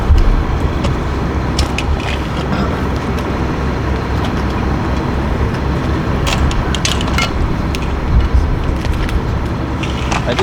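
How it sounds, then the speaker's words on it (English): A skid steer loader runs at a live fire training ground, its engine a steady, dense rumble that holds without pause, with faint higher clatter and knocks scattered over it. "Sounds like a skid steer, right?"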